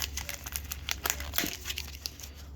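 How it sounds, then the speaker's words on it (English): A Magic the Gathering Innistrad Midnight Hunt set booster pack being unwrapped, with close, steady crinkling and light tearing of the plastic wrapper over a low background hum. "Guess I'm gonna do a Magic the Gathering unwrapping or whatever it's called"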